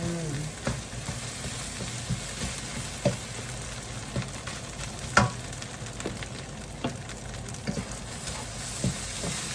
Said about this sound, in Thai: กลับไข่ให้มันสุกค่ะ คนให้เข้ากัน